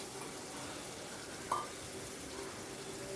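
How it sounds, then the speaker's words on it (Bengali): Whole cumin seeds and chopped onion frying in oil make a quiet, even hiss that runs throughout, with one brief tap midway and no talking. "এবারে ওই তেলের ভেতর দিয়ে দিচ্ছি হাফ টি চামচ মতো গোটা জিরে, আর দিয়ে দিচ্ছি কুচি করে কেটে রাখা যে পেঁয়াজের টুকরোটা রেখেছিলাম"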